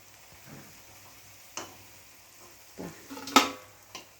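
Fried tea-time snacks lifted from hot oil into a perforated metal strainer, a few scattered clinks and light metallic taps with faint sizzle underneath, one sharper clatter near the end, no talk.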